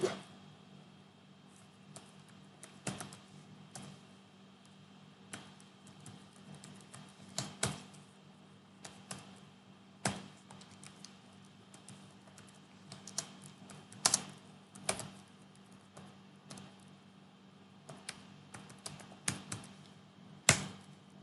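Keys clatter on a computer keyboard as a command is typed at a virtual machine login prompt, steady close taps with a few louder keystrokes over a constant low hum.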